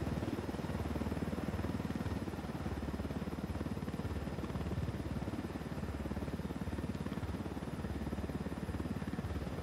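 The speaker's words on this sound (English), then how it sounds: "All we need to do now is find a suitable location to set down the chopper" A video-game helicopter flies with a steady, dense rotor and engine drone, moderately faint and unbroken, with no voices.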